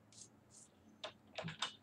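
Sparse, quiet keystrokes on a computer keyboard during coding work, a few isolated clicks followed by a short burst of typing.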